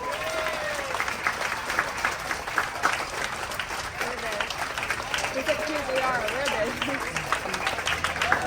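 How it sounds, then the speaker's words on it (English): A cruise ship dining-room audience gives the chefs sustained applause, a steady dense clapping that runs throughout, with cheers and voices mixed in under the noise. "How about a huge round of applause for a hardworking team of chefs?"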